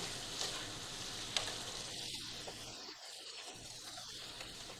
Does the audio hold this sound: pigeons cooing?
no